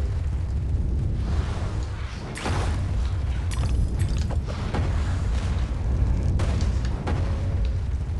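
Cannons fire in the video game Alice Madness Returns, with repeated booming blasts over a dense, constant rumble and several sharp bursts scattered throughout.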